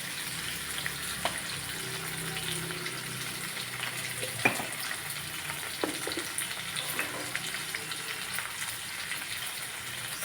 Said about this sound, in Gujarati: આમાં કોઈ પાણી, તેલમાં જ સાંકળવાના છે